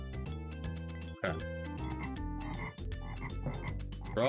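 Frog croaks from The Lion King on the Super Nintendo, rapid game-audio blips sounding over a steady bed of synthesized background music throughout.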